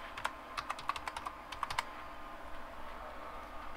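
A computer keyboard is tapped in a quick burst of about a dozen light, close keystrokes over a steady background hum, then only the hum continues.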